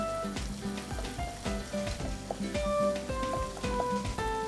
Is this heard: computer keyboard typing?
no